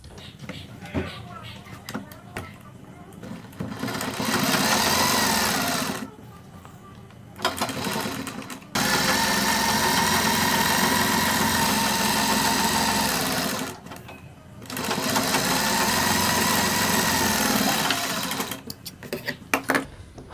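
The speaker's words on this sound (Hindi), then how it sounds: "अब हम एक पैर की सिलाई लगाएंगे" An electric sewing machine stitching the seams of a cloth garment sleeve, running in long steady whirring bursts that stop and start, loud and close, with a voice talking at the start and end.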